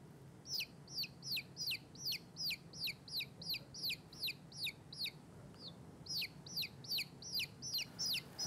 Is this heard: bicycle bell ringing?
no